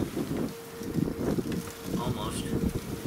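Gusty outdoor wind buffets the microphone around a survival stove, a rough, fluttering roar that swells and eases in uneven pulses, with faint higher tones now and then.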